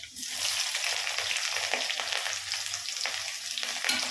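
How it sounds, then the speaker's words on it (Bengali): Chopped garlic, onion and green chili fry in oil with a fairly soft, continuous crackling sizzle and light stirring scrapes, heard close with no talking. "রসুন কুচিগুলো দিয়ে দেবো, আগে ভেজে নেবো।"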